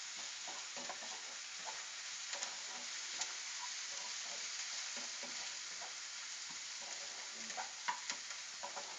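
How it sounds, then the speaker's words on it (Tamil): Tomatoes and onions sauté with turmeric in a pan for dal, making a quiet, even sizzle. Occasional light stirring ticks rise above it, with no voices. "ஸோ இப்போ நல்லா வதங்கியாச்சுங்க தக்காளி வெங்காயம் எல்லாம்."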